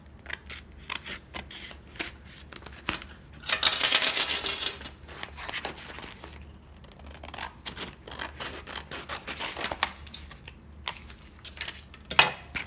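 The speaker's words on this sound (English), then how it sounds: "And I just cut it with a pair of scissors." A pair of scissors cuts through heat-transfer vinyl for a shirt design, with crisp snipping and rustling of the sheet at close range, quiet and irregular with a few louder cuts.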